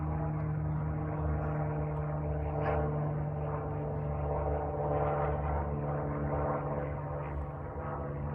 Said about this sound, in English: I can wait for the airplane noise